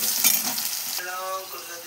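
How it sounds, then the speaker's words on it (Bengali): Potatoes seasoned with turmeric and salt fry in oil in a wok, a close sizzle with stirring scrapes that eases to a quieter, smoother crackle halfway through; nobody talks. "আলুটা ভেজে নেব।"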